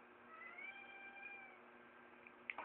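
Cat meowing with a drawn-out, wavering call followed by a couple of short sharper meows near the end, fairly quiet at moderate distance.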